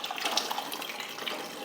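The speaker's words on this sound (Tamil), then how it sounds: "இந்த டைமில் நம்ம வேக வச்ச சன்னா தண்ணியோடய சேர்த்துருங்க." Boiled chickpeas and their cooking water poured into a masala in a pan, a soft, steady liquid splash and pour, close and continuous for under two seconds.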